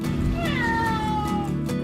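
A house cat meowing insistently, one long drawn-out meow sliding down in pitch, close and clear against a steady background hum, with no talk.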